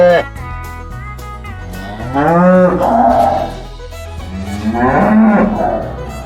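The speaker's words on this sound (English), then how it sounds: "C-O-W, cow." A cow gives two long, loud moos close by, each low and drawn out, separated by a short pause.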